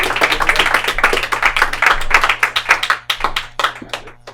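At a live comedy show, a small audience claps for a comedian. The applause starts dense and then thins into scattered, distinct hand claps that taper off toward the end.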